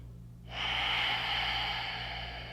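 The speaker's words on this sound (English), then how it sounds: "just breathing into this. Nice, easy breaths." One slow, close exhalation during a seated chair yoga session: an airy, steady rush of breath over a low background hum.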